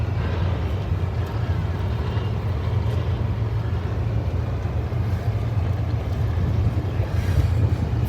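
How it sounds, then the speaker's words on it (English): A supercharged racing engine at a drag strip idles with a steady, loud, low blower drone, continuous and unbroken throughout. "Blower sounding sweet up here."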